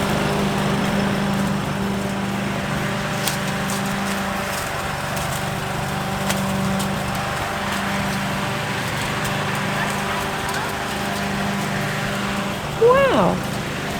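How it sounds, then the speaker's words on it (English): A lawnmower running onto bricks outdoors, a steady low motor hum throughout, with light rattling and a short burst of higher noise near the end. "Hamish wants to show BLiPPi the lawnmower can go on the bricks."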